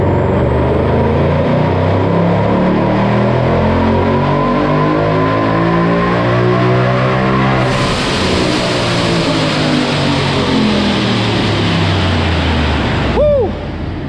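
A 2019 Mustang GT with a ProCharger P1X supercharger, making 8.5 psi of boost, roars loudly on a dyno, revving steadily upward through a long full-throttle pull before the engine drops off near the end.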